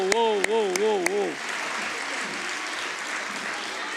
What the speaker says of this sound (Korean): 뜨거운 박수로 다시 한번 크게 어린이날 위해서